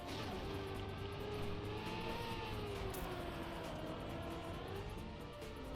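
A race car in Trackmania accelerates with a faint engine whine rising and falling in pitch, steady and continuous at low volume, without speech.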